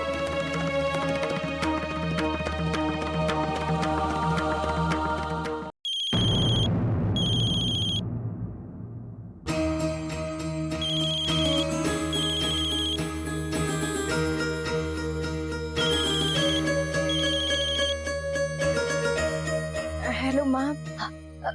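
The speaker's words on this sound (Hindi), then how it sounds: "बेटा, फोन क्यों नहीं उठा रही थी?" A telephone rings with a repeating electronic melodic tone, loud and close, broken by a brief pause and a jingly chime before the ringing resumes.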